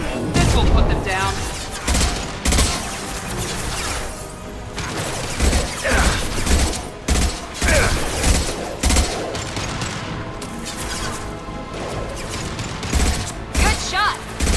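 Rapid gunfire bursts and heavy explosions from the video game Mass Effect 2 crackle loudly and continuously, with booming impacts and crashes layered in, and combat voices call out between the shots.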